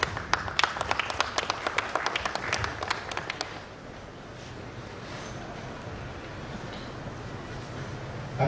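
Applause at a university prize giving ceremony, as a best overall BSc Agronomy student is announced: dense clapping from the audience for about three and a half seconds, then dying into a low crowd murmur.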